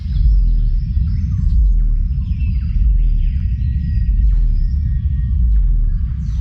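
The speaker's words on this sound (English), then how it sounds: "It's the lowest pitched bird call in the world, and it's barely audible to the human ear." A cassowary's deep, very low-pitched booming call, a rumbling throb that continues steadily for several seconds with fainter bird chirps above it.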